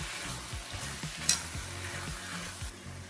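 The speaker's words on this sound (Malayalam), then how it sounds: "ഇനി ഇതെല്ലാം കൂടെ ഒന്ന് മിക്സ് ചെയ്ത് കൊടുക്കാം" Spinach chicken curry is stirred after garam masala, kasuri methi and cumin go in, giving a faint, even sizzle with soft rhythmic scrapes and one brief clink.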